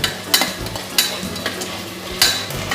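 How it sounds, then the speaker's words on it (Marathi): Ginger-garlic paste is stirred into sizzling oil and vegetables for a soya chunks biryani, with a steady fry hiss punctuated by several sharp scraping strokes of a spatula against the pot. "आलं लसूण पेस्ट टाकून घेऊया. हे चांगलं मिक्स करून घेऊया."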